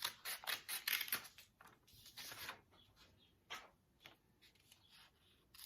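Scissors snipping apart strips of white paper, a quick run of crisp close cuts followed by a few slower, sparser snips, with no talking.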